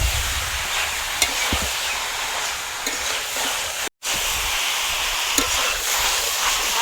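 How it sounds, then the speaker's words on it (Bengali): Shredded cabbage and chicken are sautéed together in a pan, giving a continuous broad hiss of frying with a few faint scrapes of stirring and a brief dropout midway; nobody talks. "বাঁধাকপি মাংস দুটোই ভালোভাবে কষিয়ে নেবো একসাথে"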